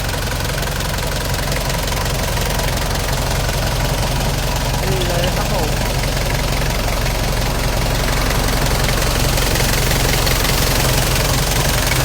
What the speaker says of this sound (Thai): ตอนนี้เครื่องยนต์ติดเรียบร้อยแล้วนะครับ